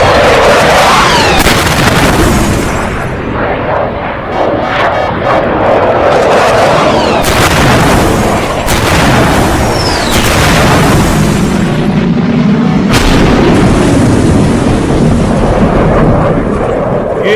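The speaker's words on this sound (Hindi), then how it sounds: "फाइटर्स ने मिसाइल हिट किए और जाकर टीटीपी चीफ की गाड़ी पर गिरी है" Missile strikes from Pakistani fighter jets hitting a vehicle in an AI-generated airstrike scene, a dense run of loud booms and blasts under a continuous rumbling roar, with sharp bursts recurring every second or two and no voices.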